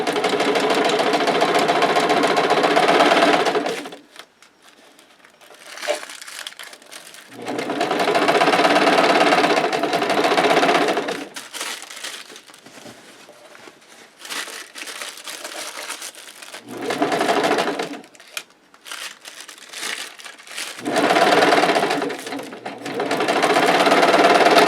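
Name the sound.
sewing machine stitching vinyl with tissue paper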